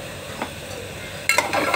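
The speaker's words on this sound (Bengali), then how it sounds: "জাস্ট একটু এমনি নাড়াচাড়া করে নেব।" Vegetables sizzle softly in a pan with a pinch of turmeric while a utensil scrapes and stirs, with a louder burst of scraping near the end.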